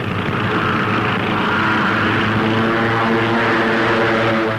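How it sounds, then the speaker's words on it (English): Propeller fighter planes from 1942 newsreel footage fly past as a steady, loud, droning engine roar with a throbbing tone that holds without a break, and no voice is heard. "United Nations pilots take to the sky in fast fighting pursuit ships."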